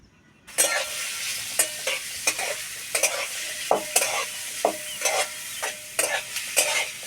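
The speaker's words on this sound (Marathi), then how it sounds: "आता हे कांदे थोडा वेळ असेच तळून घ्यायचे आहेत तेलामध्येच" Chopped onions fry in hot oil over a low flame for a village-style vegetable dish, with a steady close sizzle broken by regular scraping stirs.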